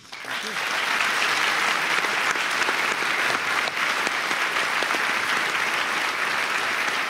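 A studio audience at a televised Q&A panel discussion in the Brisbane Powerhouse breaks into loud, sustained applause that rises quickly and holds steady as a dense wash of clapping from start to finish.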